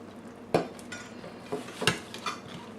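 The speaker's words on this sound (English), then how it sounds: "now I'm going to add in my zucchini and my squash" Zucchini and squash going into a cooking pan with vegetables, a sharp clatter followed by a few lighter knocks and stirring scrapes over a faint steady sizzle.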